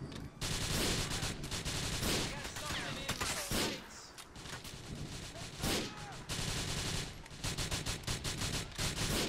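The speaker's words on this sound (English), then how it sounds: "let's shoot him" Rapid bursts of gunfire in Grand Theft Auto IV, loud and close, with dense repeated volleys separated by short pauses and some talk mixed in.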